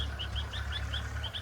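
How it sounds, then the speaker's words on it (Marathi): A small bird chirps noisily near a home kitchen, giving a quick, evenly spaced run of thin, high tweets, faint and slightly distant over a low background hum. "इतका गर्दा करतोय तो पक्षी की लई"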